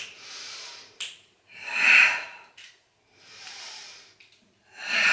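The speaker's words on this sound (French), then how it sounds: "J'inspire sur une jambe, j'expire sur l'autre." Heavy breathing during an abdominal workout, several strong breathy exhales and inhales in a steady rhythm, close and clear, each followed by a short pause.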